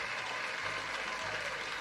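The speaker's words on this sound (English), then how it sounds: "that crowd's going crazy" Studio audience at a nerdy trivia game show cheering and applauding, a continuous even roar of clapping and voices at moderate level throughout.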